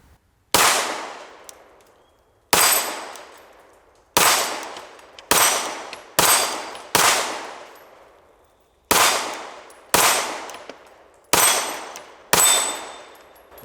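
Ten sharp pistol shots from an inexpensive PSA Dagger handgun, fired one at a time at uneven intervals, each loud crack ringing out into a fading tail, with no talking in between.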